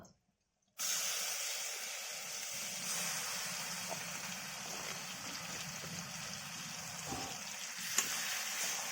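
Taro leaves with chili dropped into a hot pan burst into a loud sizzle after a moment of silence, then settle into a steady, close, crackling hiss with a few faint stirring knocks.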